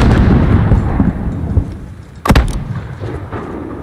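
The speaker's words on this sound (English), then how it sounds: "There's still a mortar out there." Distant mortar and gunfire in Call of Duty: Modern Warfare rumble as a continuous low battle roar, broken by one sharp nearby blast about two-thirds of the way in, with no voices.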